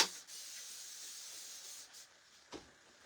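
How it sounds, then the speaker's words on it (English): A steady hiss of spray runs continuously for a few seconds, close and fairly quiet, with a couple of brief breaks and a short burst near the end. "All right, I'm just spraying this down"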